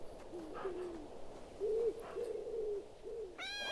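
Owl hoots in the forest of the video game Shelter 2, a series of soft, low, wavering calls spread over a few seconds, moderately close against quiet ambient background, with a brief higher chirping at the end.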